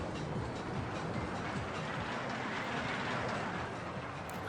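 Roller coaster train in the OpenRCT2 video game, running through a factory-themed park, gives a steady rumbling rattle of rolling cars with faint clacking, continuous and moderately loud throughout.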